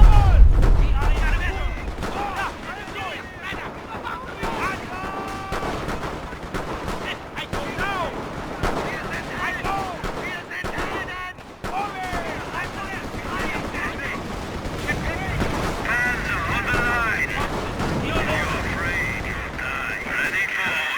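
Observed artillery fire in the World War I strategy game Company of Heroes Great War mod, with repeated booming blasts and scattered gunfire over about twenty seconds beneath a bed of in-game battlefield din and talking.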